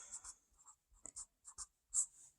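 Pen or marker writing out kinematic equations, a series of short scratchy strokes with brief gaps between them, close and quiet, with no talk.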